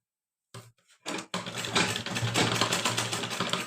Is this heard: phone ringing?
no